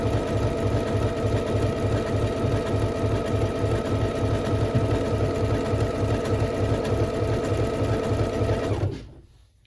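A Singer Confidence 7640 sewing machine runs steadily after repair, its fast, even needle clatter and motor whir continuing close and loud for about nine seconds before stopping abruptly.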